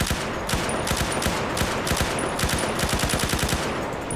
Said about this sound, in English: We have the heavy machine gun.